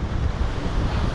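Strong ocean surf at Pacifica Pier roars in a continuous loud wash, with heavy wind buffeting the microphone throughout and no voices.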